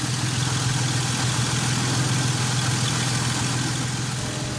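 A newer car's engine idles steadily at a fixed, non-adjustable speed, a constant low hum with a deep rumble that holds even and loud throughout, with no talking.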